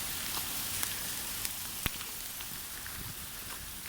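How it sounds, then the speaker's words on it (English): Small hail pelts down outdoors at night, a steady dense patter of ice pellets on surfaces with a few sharper individual ticks standing out, fairly faint and continuous throughout. "Being pelted by lots of little ice balls."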